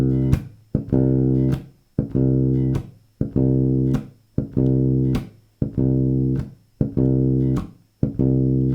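Funk bass line on electric bass with ghost notes shifted a sixteenth note later, a short phrase of deep, sustained notes with crisp percussive ghost clicks, repeated about eight times evenly and alone, with no talk.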